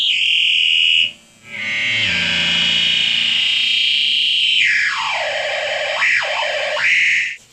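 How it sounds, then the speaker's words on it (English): A Guide Tone Micro Digital Delay MD3 guitar pedal shoots out loud synthetic effect noises: a steady high whine, then a dense sustained drone, and finally swooping pitch sweeps that dive and climb again, with no talking. "I use it a lot just for effects and noises."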